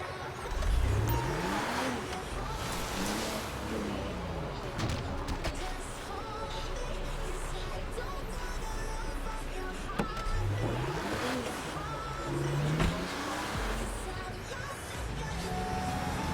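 A car in Grand Theft Auto Online drives into a casino parking garage. Its engine revs up and down repeatedly with rising and falling pitch sweeps over a steady game background rumble, loud and close.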